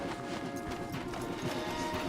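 Horses clip-clopping along a forest path in the video game Red Dead Redemption 2, a steady close patter of hooves over a dense bed of game ambience and music, with no voices.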